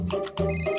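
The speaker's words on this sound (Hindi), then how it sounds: "मेहते का फोन है।" A phone ringtone rings loudly and close in a Hindi sitcom scene, a bright electronic melodic tone with rising and falling pitched notes filling the short moment.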